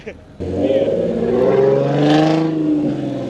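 A modified Nissan Z sports car revs hard as it pulls away, its loud exhaust rising and holding a strong, steady roar up close before easing slightly.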